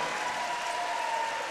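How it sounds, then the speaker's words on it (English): Coach Picard claps during a men's volleyball match between the Titans de Limoilou and the Camosun Chargers; a steady, dense wash of clapping runs throughout, with no talk over it. "And Coach Picard clapping."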